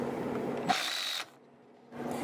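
An impact wrench removes 14mm axle nuts from the stubs of an MX83 differential. There is a close, loud burst of whirring rattle, a brief pause, then the tool starts up again.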